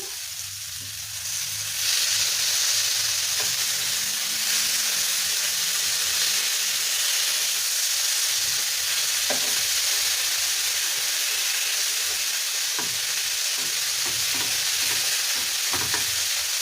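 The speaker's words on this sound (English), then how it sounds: "I'm gonna let it sear as well." Lamb chops searing in a hot frying pan, a steady loud sizzle and hiss running throughout with a few faint stirring clicks, no voices.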